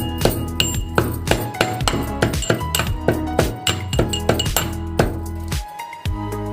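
Peeled cardamom pods crushed with a pestle, a steady series of sharp, ringing metallic clinks, close and loud, about a dozen evenly paced strikes with a brief pause near the end.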